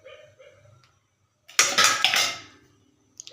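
Mustard seeds dropped into hot coconut oil, tempering for a pea pulao, give a sudden loud burst of sizzling and crackling that fades over about a second. Brief quiet kitchen sounds come before and after it.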